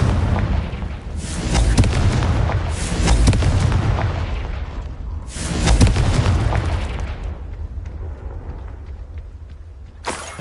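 Deep booming blasts from a Confringo spell in a Harry Potter video game, three large explosions with rumbling tails and a sharp burst at the end, loud and close with no talking.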